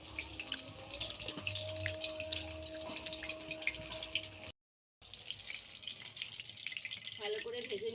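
Chicken balls fry in oil over low heat, a steady soft sizzle with faint crackles running throughout, a brief gap midway, and light clinks near the end.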